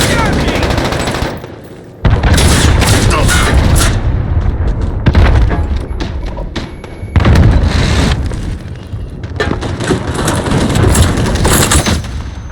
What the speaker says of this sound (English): Enemy cruise missile, take cover.